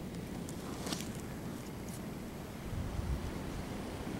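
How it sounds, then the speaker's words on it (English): Winter wind gusts buffeting the microphone outdoors near beehives, a continuous low rumbling roar that swells near the end. "Just wish it wasn't so windy out today"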